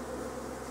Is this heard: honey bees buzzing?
yes